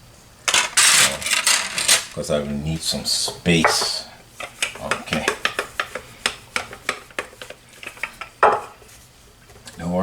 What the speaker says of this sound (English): I think I may have to move my pans from here